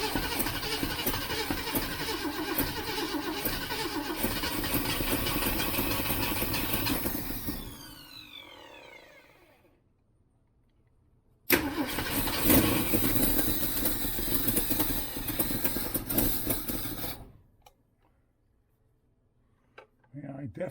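A 1967 Ford Mustang with a 390 engine starts and runs roughly with an exhaust leak, loud and close, in two bursts separated by silence before cutting out.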